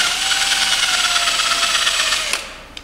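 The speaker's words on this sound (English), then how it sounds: "To scrape all of the sealant off of the top." Sealant being scraped off the top of a Super Duty truck's differential housing makes a steady, close, gritty rasping for over two seconds, then tapers off, followed by a couple of brief knocks.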